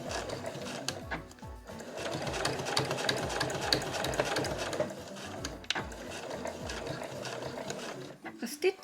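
A sewing machine backstitches stiff fabric for a tissue pouch, using white thread. It runs at a fast, steady clatter up close, pauses briefly a few times, and stops near the end.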